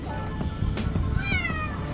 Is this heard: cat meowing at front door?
yes